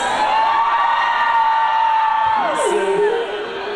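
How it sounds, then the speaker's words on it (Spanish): A concert crowd at a festival in Corrientes shouts and cheers loudly and continuously, with a sustained roar of many voices and a falling whoop near the end. "un grito de la gente que está pasando bien ahí en Corrientes"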